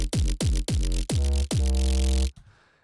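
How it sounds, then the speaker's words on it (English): A layered, saw-distorted 808 synth bass plays five heavy, buzzing notes, each with a falling pitch sweep, the last held longer before it cuts off into near silence. "I wanted to have like this like big synth, like saw distorted 808 kind of synth before"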